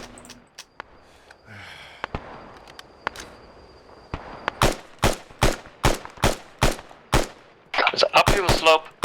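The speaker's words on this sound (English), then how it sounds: "Returning fire." Video game gunfire erupts with scattered single shots, then a steady rhythmic string of loud, sharp bursts, ending in a rapid dense volley, all close and punchy.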